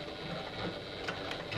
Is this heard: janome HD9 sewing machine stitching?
yes